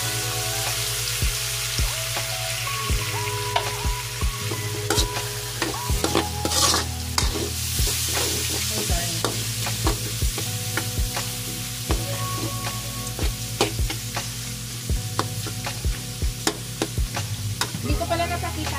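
Mushrooms sauté with garlic and onion in a hot pan, giving a continuous close sizzle and fry crackle, with repeated scraping and stirring of the utensil against the pan throughout.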